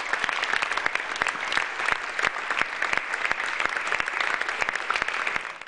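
An audience at a regional CSU political party anniversary gathering gives a hearty, continuous round of applause with dense, even clapping and no talking over it.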